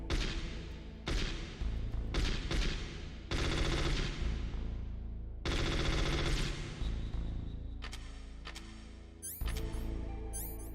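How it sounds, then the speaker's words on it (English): Assault rifle fire in the video game Metal Gear Solid comes in several loud, rapid bursts separated by short gaps, ending with a few sharp, scattered shots. "Assault rifle."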